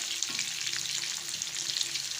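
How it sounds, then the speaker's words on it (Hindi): Onions and green chillies fry in an open pan for street-style pan fry, giving a steady close-up sizzle with soft crackle and faint stirring throughout, no voices. "हाफ फ्राई हो चुके हैं। अब इसकी दूसरी साइड से फ्राई करेंगे।"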